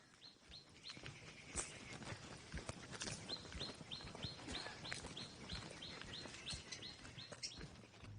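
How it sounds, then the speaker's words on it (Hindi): Birds call in a pleasant outdoor spot where pigeons are present, with repeated short chirps and tweets rising above a soft, busy background, fairly quiet and continuous, with no talking. "वो देखिए, कबूतर।"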